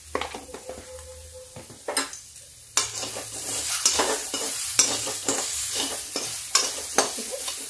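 Vegetables with turmeric stir-fried in a kadai for barley dalia, sizzling up close as a spatula scrapes and clatters against the metal in quick, irregular strokes.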